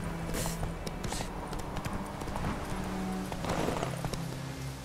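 Roach, a horse in The Witcher 3, gallops with a steady run of hoof clip-clops, close and fairly loud against a busy game background, with no talking over it.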